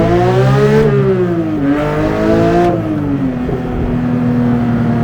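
Porsche 911 GT3 with a manual gearbox accelerating hard, its engine climbing through the revs, dropping at a quick upshift, then pulling again as a loud, close, continuous howl with no talk.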